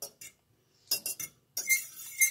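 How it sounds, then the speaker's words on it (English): A fork stirs a liquid in a glass, giving brief bright clinks in short bursts, with a little talk nearby. "Now we need to stir it with a fork."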